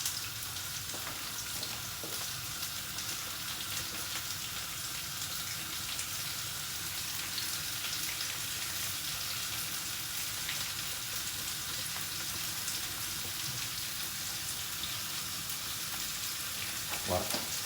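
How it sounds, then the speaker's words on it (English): Steady, dense sizzling of onions stir-frying in a hot wok for a Sichuan stir fry, a continuous crackle with occasional soft clinks, close and fairly quiet throughout. "you can hear the stir fry, or hear the onions at least, frying"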